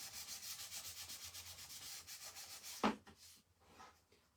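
Quick rhythmic back-and-forth rubbing sands a painted sign to distress it, a steady scratchy stroke pattern up close that ends with a sharp knock and a few softer handling noises.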